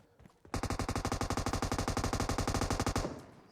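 Automatic gunfire in PUBG Mobile, a single sustained burst of rapid, evenly spaced shots lasting about two and a half seconds, close and loud, then cut off.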